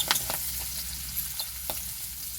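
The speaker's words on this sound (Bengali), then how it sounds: "মটরশুঁটিটাকে ভালো করে ভেজে নেব।" Green peas frying in a pan with chillies, a continuous close sizzle broken by light stirring scrapes and taps of a spatula, with no voices.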